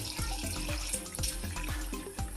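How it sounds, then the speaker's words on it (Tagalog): Water is poured into a pan of longganisa pork sausages, a close splashing trickle with a quick repeated rhythm. "pwede na siya lagyan ng kaunting tubig"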